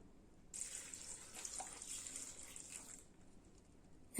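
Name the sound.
water being poured into jackfruit in a pan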